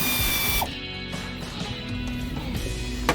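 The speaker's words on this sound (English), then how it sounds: "So you just got to put the wrench on, and then the air ratchet is just under there. Squeeze the trigger." An air ratchet buzzes continuously and loudly at close range while backing out bus seat bolts, with a slight mechanical rattle and a shift in tone partway through.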